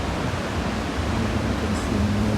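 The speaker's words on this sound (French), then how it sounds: "le bruit des vagues, c'est tellement apaisant" Broad, steady roar of ocean surf at Nazaré during a surf championship, a continuous wash of breaking waves filling the whole stretch without pause.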